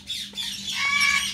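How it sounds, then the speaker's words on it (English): Baby birds squawk in a quick, harsh burst of several close, loud calls, rising and falling over about a second. "Look, those are the baby birds."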